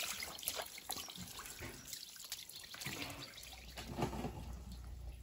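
Water runs and splashes at a sink while home-grown tomatoes are washed, a faint, steady trickle with small drips and sloshes throughout and no talking.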